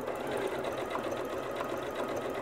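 A Janome MC9400 sewing machine runs a triple stitch, producing a continuous, close, even mechanical hum and rapid needle chatter throughout with no pauses.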